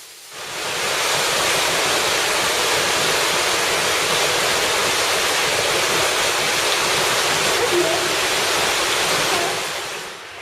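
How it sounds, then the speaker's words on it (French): Steady, loud rushing water fills the whole clip, a constant broadband roar with no voices, from an underground stream flowing through a cave meander. "un méandre au fond duquel coule le ruisseau"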